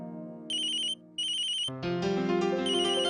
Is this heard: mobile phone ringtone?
yes